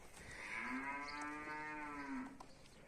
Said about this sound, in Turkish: İnekler ne diyor ya Rabbim vallaha.